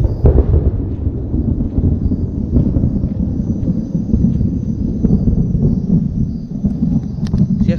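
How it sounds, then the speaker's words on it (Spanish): Thunder from lightning in a storm beside the swollen Guayllabamba river, a loud, deep continuous rumble rolling without break, close and heavy with a low roaring quality. "esos son los relámpagos vivos"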